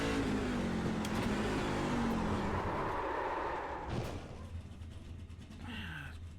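Race truck in iRacing on the St. Petersburg street circuit, engine droning with a falling pitch as it spins out, then a sharp thump and quieter rumbling afterward.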